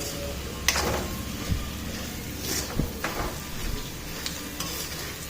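Peanuts, roasted gram, curry leaves, green chillies, garlic, onion, cumin and mustard seeds fry in a pan for spiced puffed rice, a soft sizzle under a few scraping stirs and light knocks of the spoon, with no talk.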